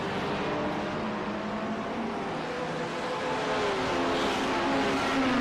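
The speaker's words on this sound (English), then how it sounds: "Corvettes together, one of the newer cars for GT3s in global racing and on iRacing." Corvette GT3 race cars in the iRacing simulator, engines droning steadily with rising and falling pitch as they run together, moderately loud and continuous with no talk.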